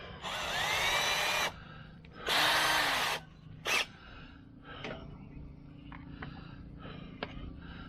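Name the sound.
power drill drilling mounting holes in wall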